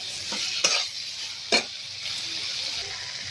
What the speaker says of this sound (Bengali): এবার আলু আর সোয়াবিনটা আছে দিয়ে দেবে সোয়াবিনটা আলুতে কষে নেব